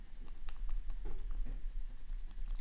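Chalk or marker on a board during a university mathematics lecture on convex functions, a series of close, scratchy strokes and taps in an irregular rhythm, with no talking over them.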